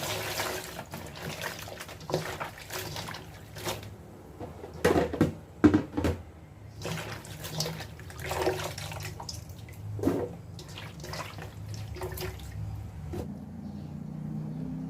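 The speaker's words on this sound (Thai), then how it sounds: "เดี๋ยวเราล้างน้ำสักสามน้ำนะคะ" Mushrooms with their stems trimmed are rinsed in a basin of water, with irregular splashes and sloshing bursts rising and falling over about fifteen seconds, close by and without talk.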